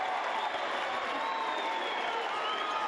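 A home crowd at an Otago Nuggets versus Franklin Bulls basketball game cheers and claps in a continuous, even roar, with faint voices mixed in.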